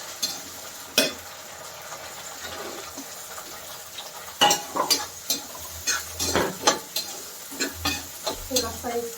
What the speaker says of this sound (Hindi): थोड़ा सा इसको फ्राई करके पका देती हूँ